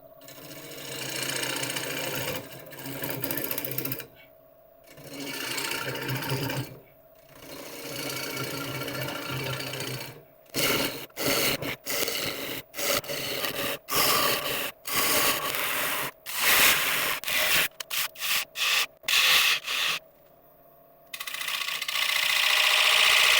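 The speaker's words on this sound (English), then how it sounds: "Initially turning at about 900 RPM and carrying on with a 1/2 inch ball gouge." Wood lathe hollowing with a 1/2 inch ball gouge at about 900 RPM, cutting into end grain: a steady rasping, scraping drone close by, broken into repeated short cuts with brief pauses between passes, no talk.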